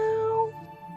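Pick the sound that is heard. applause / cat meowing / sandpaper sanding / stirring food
cat meowing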